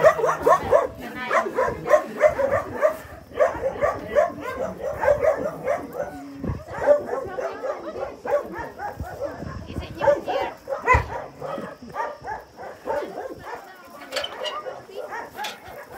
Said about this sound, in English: Look at them, they are sitting, waiting, the dogs.